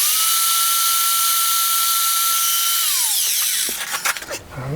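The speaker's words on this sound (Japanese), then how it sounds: "どこのご家庭にでもあるけどめったに使われることのないアングルドリル。" Angle drill boring a screw hole into a metal lathe body, a high steady whine holding pitch, then winding down and stopping, followed by a few clunks and handling noises near the end.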